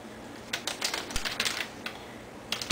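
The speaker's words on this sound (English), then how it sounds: "I just cut it into pieces" Knife cutting a pound and a half of raw ground round beef into even pieces for burger patties, a run of close, soft tapping chops against a board with a steady faint background hiss.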